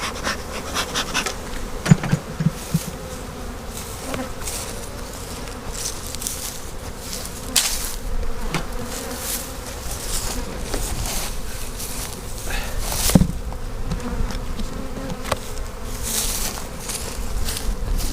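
Honey bees buzz in a dense, continuous drone close by during a backyard hive inspection, with occasional light knocks and taps.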